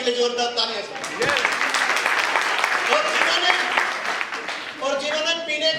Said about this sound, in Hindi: आपकी ईमानदारी के लिए जोरदार तालियां सर